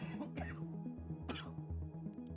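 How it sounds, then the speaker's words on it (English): A sick woman's coughs, two sharp bursts about a second apart, cut through a steady game soundtrack with music and low tones from a DayZ PvP match. "I'm coughing every 5 seconds right now"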